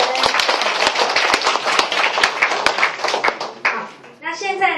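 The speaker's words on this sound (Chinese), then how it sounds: "所以我们再给董医师一个掌声" Audience applause for a doctor at an event, a dense sustained clapping that fills most of the clip before tapering off, with a voice starting to speak at the end.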